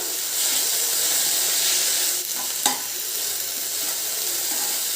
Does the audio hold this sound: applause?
no